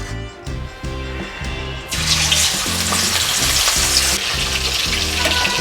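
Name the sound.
rohu fish frying in hot oil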